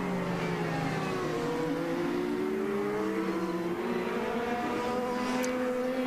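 IndyCar race cars scream past on the final lap of a 2012 race, several engines wailing at high revs with sliding pitch as they pass, loud and continuous with no talk.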